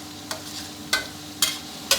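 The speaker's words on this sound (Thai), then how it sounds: "คอยหมั่นคนด้วยนะครับ กระเทียมจะได้เหลืองกรอบพร้อมๆกันครับ" Garlic sizzles steadily in hot oil in a wok while a utensil scrapes through it in four evenly spaced strokes, close and clear, as it fries golden and crisp.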